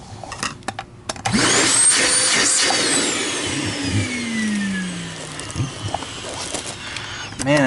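A TriStar EXL A101 vacuum cleaner motor starts after a brief pause and settles into a loud, steady whirring roar, with a falling tone sweeping through it and some clatter near the end.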